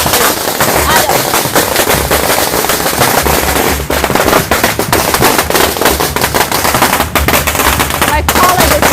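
Strings of firecrackers burst in a relentless, loud crackling barrage at a Chinese Spring Festival parade of the gods, close by and unbroken, with voices faintly under the din.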